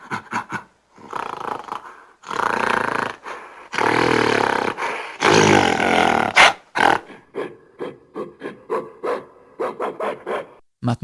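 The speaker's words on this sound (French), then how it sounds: "des grognements de gorilles" Gorilla grunts in short, rough bursts, some drawn out and growling, others clipped and rapid, loud and close with brief pauses between them.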